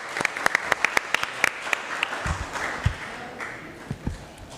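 Applause in a city council chamber in Paterson, New Jersey, with sharp individual claps spread through the room that thin out and fade over a few seconds, plus a few thumps.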